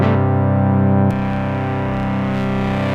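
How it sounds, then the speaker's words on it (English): Behringer 2600 analog synthesizer playing a loud, buzzing distorted tone with dense harmonics, a sharp change in timbre about a third of the way through, then continuing steadily with no voices. "Also got distortion in there."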